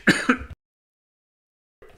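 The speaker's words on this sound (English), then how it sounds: "I just coughed to death." A short, sharp cough or throat-clearing burst, close and loud, followed by silence and then faint movement noise.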